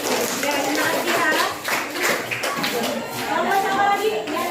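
A group of students applauds together in a classroom, steady dense clapping lasting throughout with voices chattering underneath.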